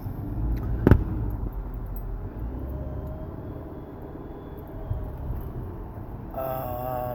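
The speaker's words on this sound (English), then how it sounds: "I'm all by myself in my car, and I'm going to start driving fast" Interior of a car accelerating onto a highway on-ramp, a steady low road and engine rumble throughout, a sharp knock near the start and a brief high electronic tone near the end.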